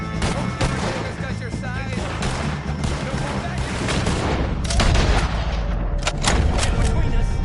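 A Red Dead Redemption 2 gunfight against O'Driscolls, with dense, overlapping gunshots cracking repeatedly over continuous background noise and a burst of sharp reports near the end, while a voice speaks briefly.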